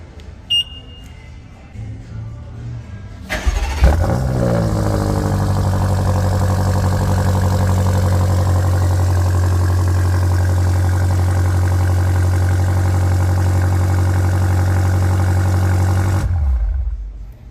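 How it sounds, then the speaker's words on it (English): A 2023 BMW M8 Competition Gran Coupe is started remotely: a short starter whir, a loud flare of revs, then a steady, strong idle that holds for about twelve seconds before cutting off abruptly. "let's see if I have enough gas to remote engine start the car"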